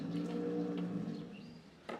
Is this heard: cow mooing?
yes